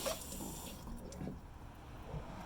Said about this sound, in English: So it should spray some water out the little hole.